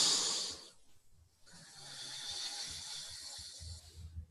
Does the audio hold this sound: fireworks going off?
no